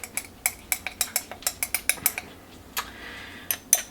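A metal spoon clinks against a glass canning jar of corn relish in a rapid series of about fifteen sharp, close taps, then a pause and a couple of scattered clinks, with no talking over it.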